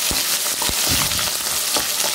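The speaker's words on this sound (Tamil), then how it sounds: "அதையும் போட்டு நல்லா வதக்கிக்கலாம்" Whole peeled garlic cloves sautéing in a pan for chutney, a close, continuous sizzle broken by a few soft stirring knocks, with no talking.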